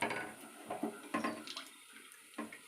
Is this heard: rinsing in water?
yes